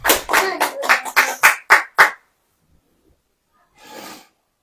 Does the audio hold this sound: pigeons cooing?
no